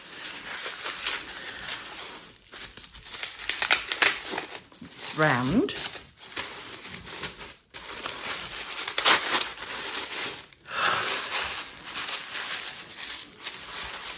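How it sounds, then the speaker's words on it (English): Tissue paper crinkles and rustles in bursts as a gift is unwrapped by hand, the crumpling coming close and intermittent, with someone speaking briefly between the rustles. "Ooh, it's some tissue paper."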